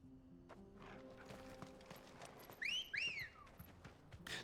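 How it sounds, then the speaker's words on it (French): A character in the video game Final Fantasy XVI whistles twice, giving two quick rising-and-falling whistle calls in the middle of the clip over soft game ambience and faint hoofbeats. "Dis donc, tu siffles qui comme ça, Clive?"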